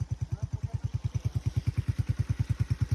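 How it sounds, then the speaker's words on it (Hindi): A washed motorcycle's engine, its spark plug doused with water, idles close by with a steady, fast, even thumping pulse at an open-air stream, running alone with no one talking. "हमारा दूसरा बाइक भी स्टार्ट हो गया है"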